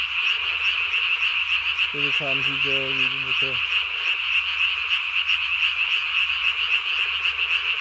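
One close burst of rattling, stepped croaks from a tree frog at night in May, riding on a steady shrill background chorus, with someone speaking briefly.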